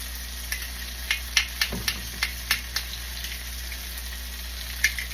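Seasoning vegetables frying in a pan for rasta pasta with chicken and shrimp: a steady soft sizzle with a run of light stirring taps and scrapes, no talking.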